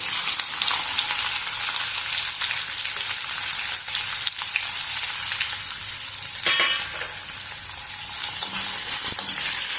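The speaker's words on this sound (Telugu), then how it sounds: "ఇప్పుడు ఆనియన్, పచ్చిమిర్చి వేస్తున్నాను" Onion and green chillies sizzle with spices in a pan for a pumpkin curry, a steady bright hiss of frying with occasional crackles and light stirring, close up and uninterrupted.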